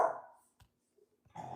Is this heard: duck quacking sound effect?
no